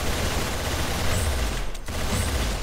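Rapid gunfire from a weapon in the Roblox game Arsenal, a dense continuous burst of shots at close range that runs almost the whole time, with one brief gap near the end before firing resumes.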